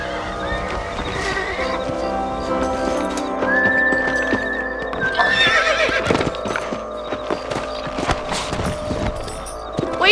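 Horse hooves clip-clop steadily while horses neigh and whinny in Red Dead Redemption, with a high whistling tone and busy outdoor game ambience layered underneath.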